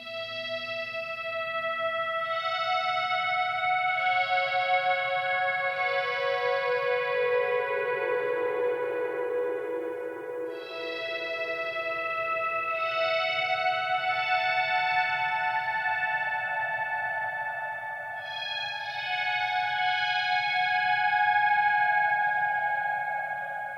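A guitar synth lead played through a Headrush 3.2 rig in the style of the Blade Runner sound, its sustained tone diving down a fifth as the expression pedal is pressed, then swelling back, with no talking.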